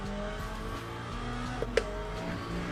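Race car engine in the sim racing game Le Mans Ultimate, droning with a steady harmonic tone that jumps into a brief buzzing blip as the gear shifts.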